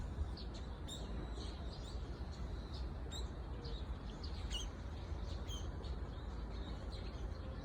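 Birds in an aviary with pigeons, ducks and peacocks chirp in scattered high tweets over a steady low rumble of background noise, faint and somewhat distant.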